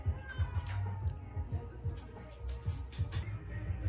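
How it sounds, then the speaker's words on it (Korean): A cat meows repeatedly in short, mid-pitched calls near a winter riverside spot in Gapyeong, Korea, with background chatter and outdoor ambience around it. "야옹한다."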